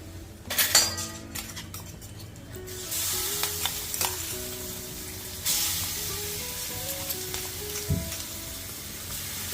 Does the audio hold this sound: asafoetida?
yes